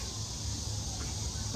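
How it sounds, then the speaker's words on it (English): Cicadas in Nashville give off a steady, high-pitched buzzing drone that holds unbroken under faint low background noise. "I love the noise of cicadas."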